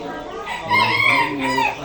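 A rooster crows once, loud and close, among various breeds of chickens kept in cages at a bird market in Dewanhat, Chittagong.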